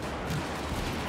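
SCAR rifle fire in the Battlefield 4 video game, a dense, blurred run of shots at a fast automatic pace, loud and close, with no talking over it.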